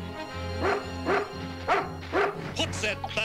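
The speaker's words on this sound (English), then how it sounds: "What's that Bow Wow doing here?" A dog trained to sniff out explosives, in an animated G.I. Joe film scene in a village, gives several sharp barks and yips in a quick irregular series over a steady background hum.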